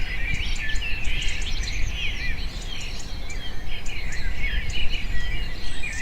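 A cockatoo and other birds calling among dense chirps and insect buzz, a busy outdoor chorus that runs steadily throughout at moderate loudness with no voices.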